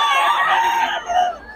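A young rooster, a stag, crows once in a single loud, close, strained call that rises and wavers before trailing off, with nothing else heard.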